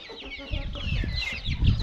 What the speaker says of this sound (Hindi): एक नई मुर्गी भी लेके आए हैं, वो भी जो इस वीडियो में आपको दिखाते हैं मुर्गी, और साथ जो उसके छोटे छोटे बच्चे हैं